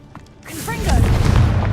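The Confringo blasting spell from Hogwarts Legacy goes off as a single booming explosion with a rumbling tail that swells and lingers, with faint voice-like tones over it.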